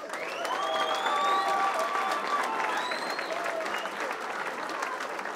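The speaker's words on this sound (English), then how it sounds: "Let's have a round of applause for the fighters" Crowd applause for fighters after a bout at an East Coast Fight Factory event, steady clapping from the arena audience with cheers and whistles rising over it.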